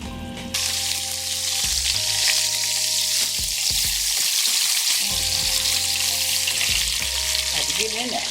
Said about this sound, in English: let it sear for about at least a good 5 minutes on each side